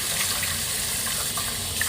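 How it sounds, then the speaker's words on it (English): A bathroom tap runs steadily with warm water, a continuous close hiss and splash as someone rinses off a face cleanser at the sink. "Rinse with warm water."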